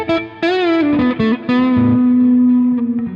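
Electric guitar through a humbucker pickup into a high-gain Neural DSP amp sim, a distorted lead phrase with bends and a long sustained note ringing out, loud and saturated, with no talk.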